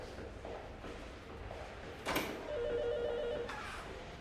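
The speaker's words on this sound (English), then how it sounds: "Phone's ringing." A telephone bell rings once over a quiet room's hiss, a short trilling burst after a brief clatter.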